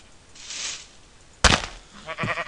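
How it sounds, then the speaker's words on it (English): Minecraft sheep give a short wavering bleat after a sudden sharp onset, following a quiet stretch with a faint hiss, the game sound close and clear. "But wait, sheep!"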